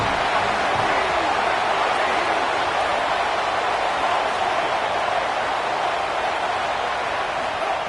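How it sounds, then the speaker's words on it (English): Roaring stadium crowd noise at Saban Field on third down in the College Football 27 video game, a dense, steady wash of cheering that stays loud and constant throughout. "The Tide crowd rolling noise down onto Saban Field on 3rd down."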